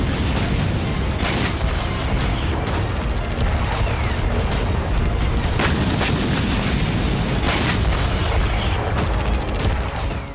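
Explosions from US and British airstrikes on Houthi missile launch sites in Yemen thunder in a dense, continuous barrage, with repeated loud booms and cracks layered over a heavy rumbling background.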